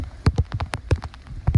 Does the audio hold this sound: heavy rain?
yes